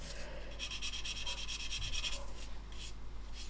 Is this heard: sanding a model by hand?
yes